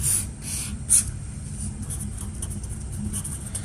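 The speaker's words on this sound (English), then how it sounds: "let me write this down here" Marker scratching on a board while a geometry problem is solved, short faint squeaky strokes with brief pauses over a low steady room hum, no talking.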